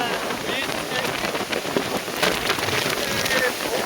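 Strong cyclone wind by the sea, a loud, steady roar of gusts hitting the microphone with a rain-like hiss, close and unbroken throughout.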